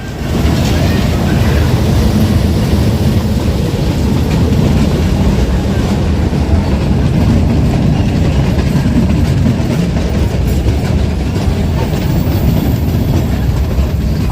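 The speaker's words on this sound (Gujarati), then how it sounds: "Junagadh Veraval train કાશિયાનેશ railway station આવી રહી છે" The Junagadh–Veraval train rumbles into Kashiya Nes station loud and close, with steady clickety-clack of wheels over the rails and a constant heavy roar throughout.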